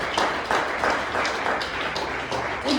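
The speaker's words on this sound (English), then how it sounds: "Round of applause for Michelle." A comedy club audience claps for comedian Michelle in a loud, dense burst that stays steady for a few seconds.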